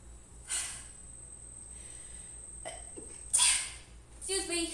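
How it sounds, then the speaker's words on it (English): A person sneezes several times, close and loud, with sharp bursts separated by quiet breathing while tending houseplants indoors. "I have to sneeze again."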